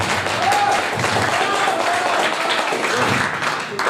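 Audience applause at a Hindi kavi sammelan comedy and poetry show, a thin, steady patter of many hands heard from the crowd throughout, with faint crowd murmur beneath.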